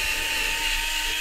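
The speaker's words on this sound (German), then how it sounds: "Die schrauben einfach mal die vier Schrauben raus, entfernen die auch mal komplett." A power screwdriver backs the four screws out of a defective Lidl Parkside SMART 8Ah PAPS 208 A1 battery pack, giving a steady, close, high-pitched whine that runs unbroken throughout.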